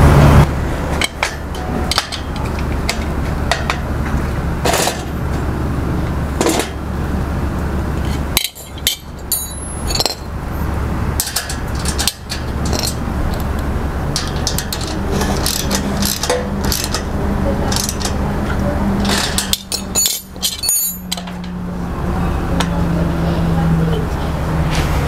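Ball nuts being tightened on an aquaponics gutter stand: steady mechanical ratcheting and metallic clinks with occasional sharp knocks, close and fairly loud over a continuous low background hum.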